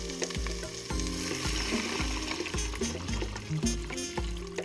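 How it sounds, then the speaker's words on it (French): Meat and vegetables sear in a multicooker, a steady close frying sizzle broken by repeated rhythmic low thumps that sound like stirring or machine pulses throughout. "commencez en mode saisir pour dorer vos viandes et légumes et en faire sortir tous les sucs"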